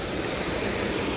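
Steady broadband rush of a stream, a khola reached on a fishing outing in Nepal, running continuously and fairly close with no voices.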